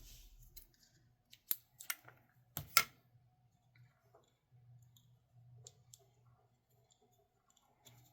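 Several sharp metallic snips of scissors, a few quick cuts in a row followed by fainter clicks in a quiet room.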